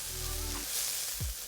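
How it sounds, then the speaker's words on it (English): Choy sum and garlic stir frying in a hot pan, a steady bright sizzle with a brief scrape of the spatula near the end, close up and without talk. "After another 20 seconds of stir frying, we can turn off the heat."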